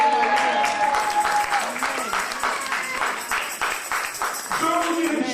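A church congregation claps and cheers in rhythmic applause, loud and sustained, with voices and musical tones mixed in.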